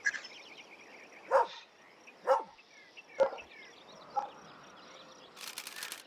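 A dog barks in The Oregon Trail video game, four separate single barks spaced about a second apart over a quiet game background, ending with a brief rising chatter.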